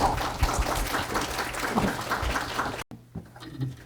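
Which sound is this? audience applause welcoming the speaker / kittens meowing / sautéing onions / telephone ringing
audience applause welcoming the speaker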